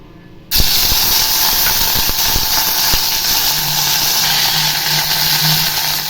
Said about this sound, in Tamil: தேவையான அளவு சன்ஃப்ளவர் ஆயில் ஊற்றிருக்கேன் இப்போ இஞ்சி பூண்டு பேஸ்ட்டு இதில்